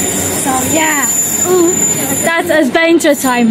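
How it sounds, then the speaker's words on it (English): Train arriving at a station platform, a continuous rumble with hiss and high squeal running throughout, while people talk over it loudly and at length. "That's the train."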